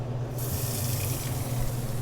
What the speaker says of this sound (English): turn on the cold water and let it get cold